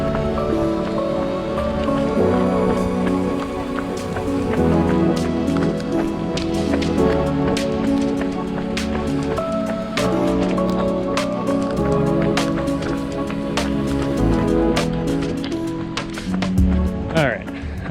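Rain falls steadily during an outdoor run, a dense patter with scattered sharp drops and taps, layered under other continuous tonal sound.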